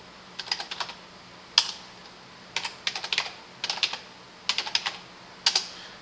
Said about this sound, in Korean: 자, 키보드